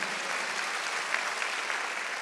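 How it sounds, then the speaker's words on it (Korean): A church congregation claps together during a Wednesday worship service, a dense, even wash of many hands sustained for the whole couple of seconds without a break. "믿음대로 된 거면 박수하세요."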